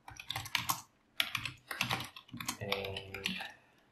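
Rapid bursts of keystrokes on a computer keyboard as a directory-change command is typed during a Code Composer Studio IDE setup for an MSP430, close and clear in three quick runs with short pauses and no talking.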